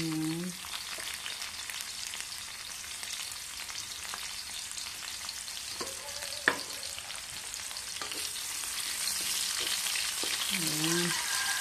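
Garlic and red onion fry in a hot pan with a steady, broadband sizzle that lasts throughout, broken by a few sharp clicks and scrapes of stirring.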